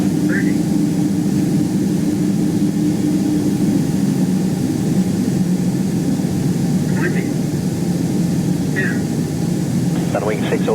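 Inside the cabin of a Boeing 787 jet airliner landing at London Heathrow at sunrise, a loud, continuous engine roar and rumble holds steady, with faint radio chatter over it.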